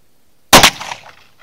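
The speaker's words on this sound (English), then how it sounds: "I'll fire 3 rounds." A Smith & Wesson Model 629 Competitor .44 Magnum revolver fires a single sharp, loud shot after near silence, with a quick double crack and a short decaying echo.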